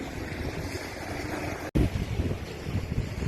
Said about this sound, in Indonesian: angin terlalu kuat. Jadi ombak juga kuat.